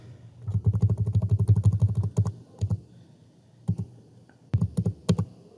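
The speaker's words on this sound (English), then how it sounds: "I'm just going to type it up here since I already have the table up." Fast typing on a computer keyboard, a quick run of crisp key clicks followed by shorter scattered bursts and pauses, close and clear in a quiet room.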